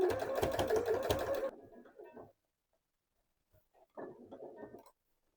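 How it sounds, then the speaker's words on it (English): A sewing machine stitches the edge of a skirt waistband in a fast, steady burst for about a second and a half, followed by quieter handling noises and short, faint runs. "I can sew all around the edge of the waistband now."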